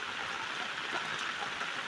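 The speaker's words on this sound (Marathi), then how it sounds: "पुरा गावात पाणी भरलं आहे" Floodwater rushes through a flooded village during heavy rain, a steady broadband wash with a few gurgles, continuous and fairly close, no voices.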